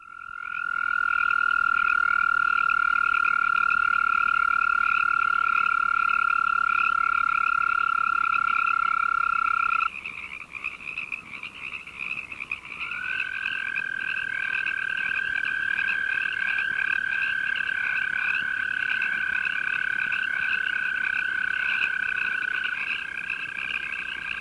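A California toad, Bufo microscaphus californicus, calling near Victorville, California, with a Pacific tree frog in the background: long, loud, steady high-pitched trills, one breaking off and another starting after a short pause.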